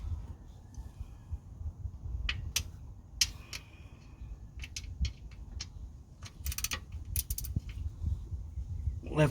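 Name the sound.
ratchet with trusty extension loosening a bolt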